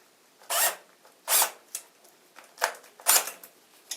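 A power drill drives bolts through a shower faucet bracket into white wall plugs in a bathroom wall, heard as several short, rasping bursts, fairly close and separated by brief pauses, with no talking.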